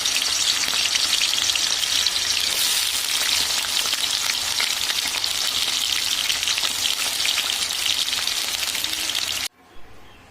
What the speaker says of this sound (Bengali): কড়াই তেল দিয়ে দিয়েছি, এবার আমি আলুগুলো ভেজে নেবো